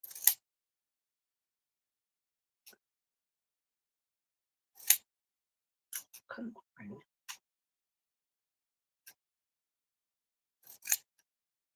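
Pinking shears trim fabric for a bucket hat in several sharp, isolated snips spaced across quiet, with a brief muttered word in the middle.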